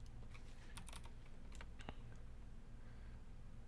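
Someone types on an office computer keyboard, producing a quiet, irregular patter of clicks in short bursts that trail off toward the end, with no talking.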